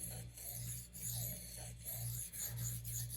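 A knife is sharpened on a THLEITE splash waterstone, with four or five close, rhythmic rasping strokes, each a gritty scrape with short pauses between.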